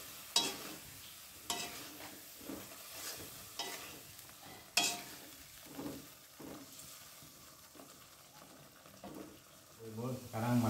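Eggplant stirred into cooked spice paste in a pan, with soft sizzling and a series of scraping, clacking stir strokes at an uneven rhythm, fairly quiet and close.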